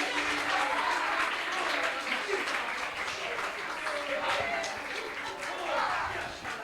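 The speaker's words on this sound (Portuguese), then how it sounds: "a gente vai aplaudir o Senhor mais uma vez pela vida do nosso pastor Júnior." Continuous applause from a church congregation, steady and moderately loud, with a few voices mixed in among the clapping.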